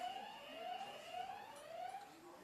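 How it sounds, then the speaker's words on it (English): A steady electronic quiz buzzer tone with a slightly wavering pitch sounds repeatedly, about three pulses, fairly clear over faint background noise. "That is the buzzer."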